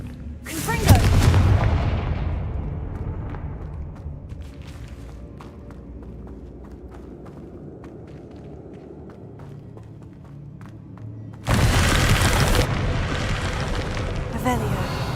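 The Confringo explosive spell in Hogwarts Legacy fires two loud, booming blasts, one at the start and another near the end. Quieter game ambience and a voice fill the gap between them.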